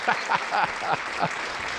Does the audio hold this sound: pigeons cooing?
no